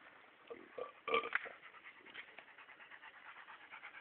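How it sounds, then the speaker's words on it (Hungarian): A nervous dog pants in short, breathy bursts, faint and fairly close, with one louder rasping gasp near the middle and no one talking. "Hát az azért ideges az a kutya."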